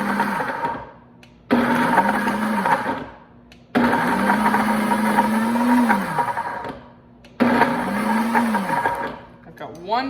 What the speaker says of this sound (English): do a quick pulse on this to grind up all that cheese